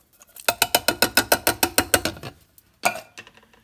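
Canned diced tomatoes going into a pot of Weight Watchers chili, a quick run of about a dozen rhythmic taps as the can is knocked against the pot, then a short second burst, up close with no talking.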